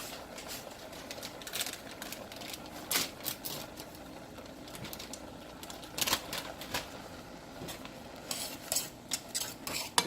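Noodles being stirred in a pot, steady scraping and swishing with scattered sharp clinks of a utensil against the pot over about ten seconds, close and fairly quiet, with no talking.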